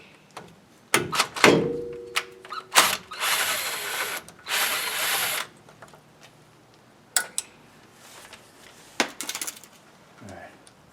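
A ratchet works loose 12 mm bolts on a 2022 Toyota Tundra during a lift kit install, with short bursts of clicking and buzzing tool noise, a couple of longer ratcheting runs, then scattered metallic taps and clanks.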